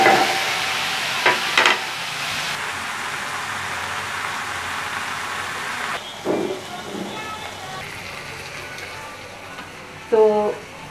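Masala oats with salt frying in a covered pan, a faint steady sizzle with occasional louder clinks and stirring bursts from utensils.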